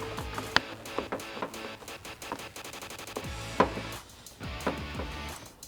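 A power tool drives screws into a fender flare on a 2014-2018 Silverado 1500, giving quick ratcheting bursts and rapid clicking pulses close by, in several short runs with pauses between them.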